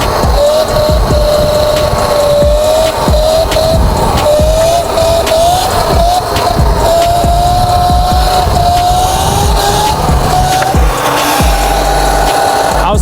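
Surron X electric dirt bike ridden and wheelied, a loud continuous motor whine rising and falling in pitch with wind rush and road noise, close and steady throughout.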